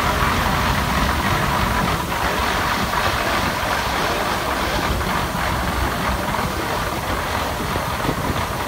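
A 1917 Case 40 horsepower steam traction engine runs at an outdoor parade, producing a loud, steady, broadband rumble and hiss with no clear beats, along with constant background noise from the event.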